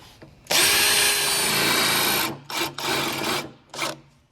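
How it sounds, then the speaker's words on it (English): A power drill whirs steadily into a wooden nightstand top for nearly two seconds, then runs in three shorter bursts, loud and close. "And drill it deep enough so that it goes the depth of that"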